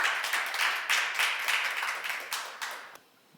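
A church congregation claps together in a rhythmic burst during a Korean sermon seminar, many hands beating steadily and fairly close for about three seconds before the clapping abruptly stops.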